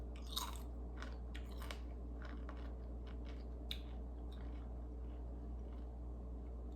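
Crunchy dehydrated venison chip, cut thick, chewed close to the mic in a series of short, crisp bites and crunches over a steady low hum.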